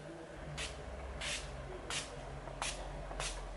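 Urban Decay All Nighter setting spray misted from a pump bottle during an everyday makeup routine: five short, evenly spaced spritzes about half a second apart, close and clear over a quiet room.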